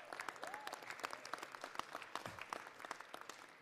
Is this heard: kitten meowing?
no